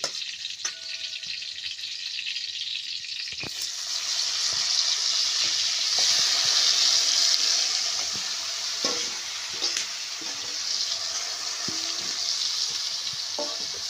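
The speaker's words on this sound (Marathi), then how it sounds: "हे बघा आजीने टाकलेली आहे भाजी तेलामध्ये" Hot oil crackles softly, then bursts into a louder, steady sizzle as onion vegetable hits the pan after a ground chilli, peanut and cumin paste, with occasional clinks of stirring throughout.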